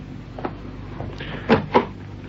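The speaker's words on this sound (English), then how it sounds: "Open the door, Johnny." A door opening indoors, with a couple of short knocks and clatters followed by two sharp close thuds and rattles, fairly near against a quiet room.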